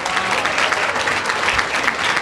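Dense audience applause at an awards ceremony of a rose conference, loud and continuous throughout, with no speech over it.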